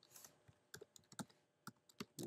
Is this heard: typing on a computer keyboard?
yes